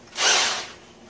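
A Bosch power drill bores into rock in an underground quartz mine, one loud close whirring burst that swells quickly and fades within about a second.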